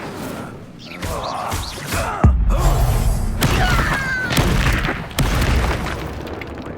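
Incendio fire spell blasting in Hogwarts Legacy, a loud booming burst with crackling, shattering layers and mechanical rumble, sustained over several seconds in a dense game soundscape.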